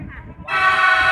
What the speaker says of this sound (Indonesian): Bunyi klakson.